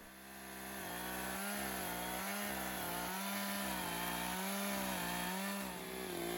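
A chainsaw running at wide-open throttle on a homemade Longboard chainsaw mill cuts through wood, a loud, sustained droning whine that stays steady for the whole stretch, with slight load changes and no voices.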